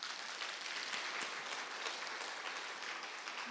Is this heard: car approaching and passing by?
no